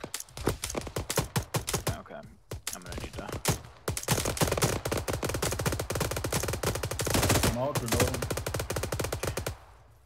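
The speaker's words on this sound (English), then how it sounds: "Red team set base fire, suppress contact." Arma 3 suppressive gunfire: dense, rapid machine-gun bursts and rifle shots crackle almost without pause for ten seconds. A brief lull comes near the two-second mark before the firing resumes at full, steady intensity.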